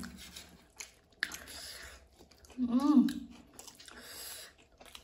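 Soft, close chewing of potato curry (alur dom) during an eating challenge, with quiet wet mouth sounds and a louder burst of munching midway, set against near silence.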